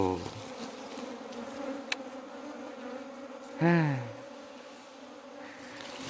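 Cavity-nesting honey bees buzzing at a nest built under a box: a faint, steady hum with one louder, closer buzz as a bee passes by.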